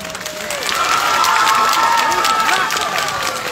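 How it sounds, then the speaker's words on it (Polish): An audience at a cosplay contest during a fantasy fan festival in Gliwice bursts into sustained applause and cheering, a dense wash of clapping that swells and holds, with a voice speaking briefly over it. "Wielkie brawa jeszcze raz."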